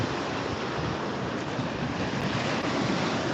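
Ocean waves wash onto a breezy beach in January, a steady, fairly loud rush of surf mixed with wind noise and no voices.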